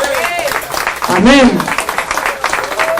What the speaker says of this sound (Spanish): Dame un aplauso si tú crees que Él vendrá.